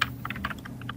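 Quick, light keystrokes on a computer keyboard, about a dozen soft clicks in an uneven burst, close but faint, no voice.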